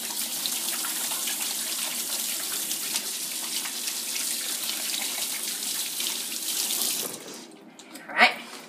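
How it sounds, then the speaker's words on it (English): Water runs steadily from a tap while hands are washed beneath it, a close, continuous splashing gush that ends near the finish with a short knock as the flow stops. "Now I gotta do the hands washing."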